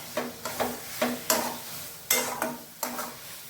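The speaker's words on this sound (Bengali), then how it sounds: "এখন এই নারকেল কোড়াটা এর সাথে মিশিয়ে দিলাম। ভালো করে এর সাথে মেশাবো।" Grated coconut is being stirred into a banana stem mash in a pan, with a spoon scraping and tapping the pan in a steady rhythm of about nine strokes over a faint sizzle, close and clear.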